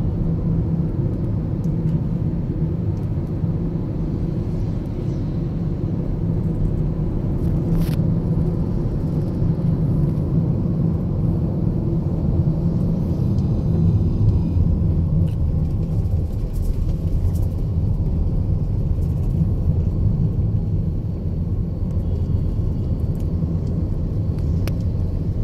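Night road traffic on the Agargaon to Farmgate road in Dhaka, a continuous low rumble of passing vehicles that swells and eases over about twenty-five seconds, with a brief faint high ping midway and no talk.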